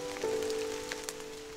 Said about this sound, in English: How gentle the rain is.